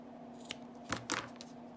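Scissors give a few quiet, separate snips while trimming a tassel on a handmade bookmark, three or four short cuts over a faint steady hum.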